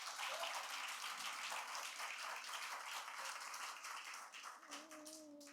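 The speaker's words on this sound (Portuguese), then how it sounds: "Então, aplauda o Senhor aí," Church congregation applauding during a Sunday service, a steady dense patter of many hands clapping throughout, easing slightly near the end as a faint voice or tone rises beneath.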